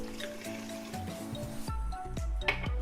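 A glass of warm milk poured over yeast for homemade Arabic pizza dough, with a soft liquid trickle and splash that deepens as the container fills, heard close and fairly quiet.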